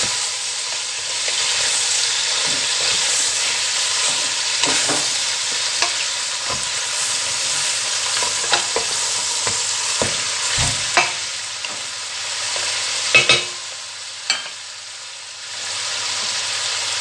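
Lamb pieces sear in a pot with a constant loud sizzle. Occasional stirring knocks and scrapes against the pot stand out at close range, and nobody speaks.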